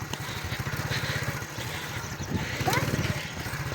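A motorcycle rolls off slowly as a learner lets the clutch out, the engine chugging in a steady, close, even beat while people talk over it.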